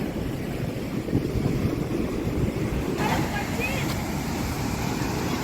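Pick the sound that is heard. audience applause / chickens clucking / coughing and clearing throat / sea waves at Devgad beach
sea waves at Devgad beach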